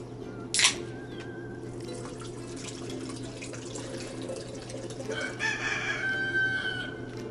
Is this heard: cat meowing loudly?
no